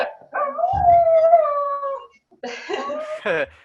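A dog howls loudly and close by in long, wavering, drawn-out cries, pauses briefly, then howls again in shorter rising yelps.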